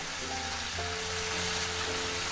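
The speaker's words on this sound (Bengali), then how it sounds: "একটু কষিয়ে নেব আমি দু মিনিট ধরে কষিয়ে নিলাম" Vegetables for a Bengali chorchori, pumpkin stems, potato and eggplant with spices, sizzle in a pan as a dense, steady hiss close up, alone without voices.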